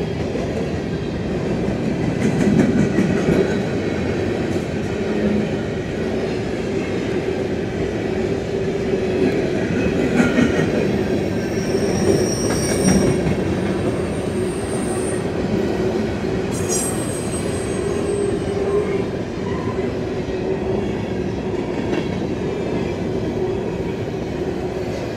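A loaded potash freight train rolls past northbound on the Henderson Subdivision, a steady loud rumble of wagons with rhythmic wheel clatter and occasional high metallic squeals, continuous throughout without any voices.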